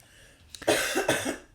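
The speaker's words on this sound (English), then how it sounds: "I really had to cough" A single sharp cough, close and fairly loud, with a rough burst followed by a couple of shorter hacking pulses.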